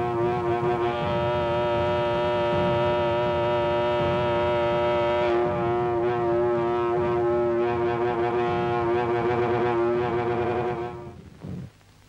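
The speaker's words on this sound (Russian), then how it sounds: "Я гудок починил" A tanker ship's horn sounds after being repaired, one long, loud, steady low blast held for about eleven seconds before cutting off abruptly, heard close with no talk.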